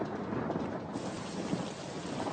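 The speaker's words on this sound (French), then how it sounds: "C'est l'orage!" Heavy rain pours steadily through a thunderstorm, with broad rolling thunder rumbling beneath the downpour throughout.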